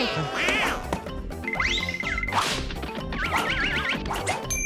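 A rubber duck gives a few squeaky quacks amid a quick burst of cartoonish whooshes, whip cracks and wobbly sound effects, loud and close.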